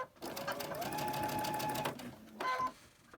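A sewing machine chain stitches quilt blocks together for a Fir Good Measure quilt, one long steady whirring run followed by a shorter burst, close and loud.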